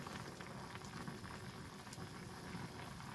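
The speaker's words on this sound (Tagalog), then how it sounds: "Guys, kulong-kulo na siya guys." Paksiw na isda (marilat fish stew) at a full rolling boil in a pot, a steady dense bubbling hiss with little variation, close and fairly loud, no talking.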